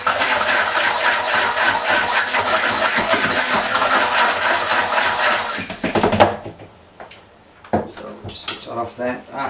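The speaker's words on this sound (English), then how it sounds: "we'll just get this all liquidised together and blend it up" A loud electric blender whirs continuously for several seconds while liquidising pesto, then cuts off, followed by clattering and knocking of kitchen utensils.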